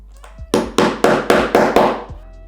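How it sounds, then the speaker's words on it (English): Six sharp, evenly spaced hammer strikes ring out up close as a snap fastener is set, each a loud metallic-wooden thwack fading quickly before the next. "And then now hammer it down"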